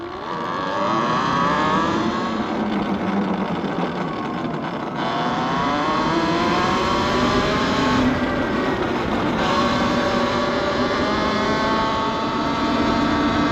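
A Talaria Sting R electric motorbike accelerates at full throttle, its motor whine climbing steadily in pitch over a rush of wind noise, loud and close for about thirteen seconds with short dips before it pulls higher again.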